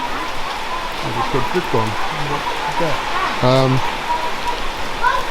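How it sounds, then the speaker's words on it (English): Rain falling around a house with a gazebo, a soft steady patter under a voice. "As you can see, it's raining."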